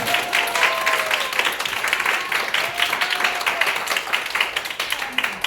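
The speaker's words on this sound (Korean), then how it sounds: "이때 박수 한번 나와야 되는데." Audience at a Korean seminar claps steadily, a dense patter of many hands at moderate distance, with faint voices and a whistle-like tone over it.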